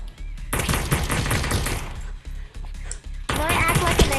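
AK rifle gunfire in a multiplayer video game, dense rapid bursts of automatic shots filling most of the clip with a brief lull before another loud volley, close and continuous.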